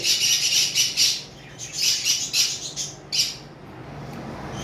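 A pair of green Fischer's lovebirds squawk in repeated harsh, high bursts at close range, with short pauses between calls and no talking.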